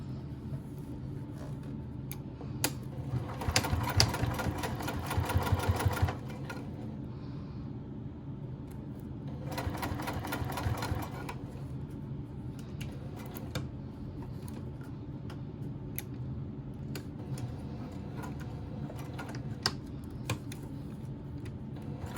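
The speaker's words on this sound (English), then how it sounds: "And then you're gonna top stitch all the way around." A sewing machine topstitches around a fabric pouch in two rapid mechanical bursts, one of about three seconds and a shorter one later, separated by quiet handling sounds.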